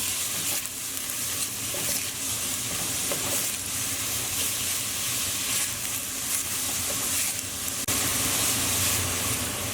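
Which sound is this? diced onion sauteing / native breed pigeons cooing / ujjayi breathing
diced onion sauteing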